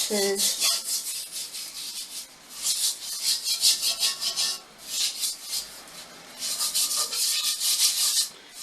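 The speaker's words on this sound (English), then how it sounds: "you just take a steel pad and you just scrub it" A steel scrubbing pad rubs hard against a cast iron pot in close, rhythmic bursts of harsh scratchy scraping, alternating strokes with short pauses, with no talk over it.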